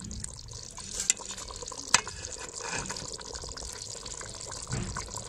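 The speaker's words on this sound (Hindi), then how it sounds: "तो अब मैं इसमें शामिल कर दूंगी पानी।" Water poured into a pan of frying potatoes and peas, a soft splashing and trickling with a couple of light clinks, fairly quiet throughout.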